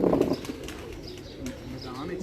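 Thirty-year-old loft pigeons belonging to Doctor Mirza Jameel coo in soft, low, repeated calls, with a brief louder sound at the start and a voice speaking over them.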